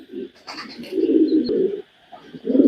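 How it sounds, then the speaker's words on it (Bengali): A pair of pigeons coo close by in short, throaty rolling bursts, with brief gaps between the calls. "এই যে এখানে এক পেয়ার কবুতর আছে"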